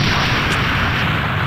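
A final spirit cannon blast in the Minecraft mod Dragon Block C, a loud, dense, roaring wash of explosive noise that stays constant and heavy, with no speech.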